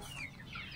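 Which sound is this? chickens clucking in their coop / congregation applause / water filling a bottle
chickens clucking in their coop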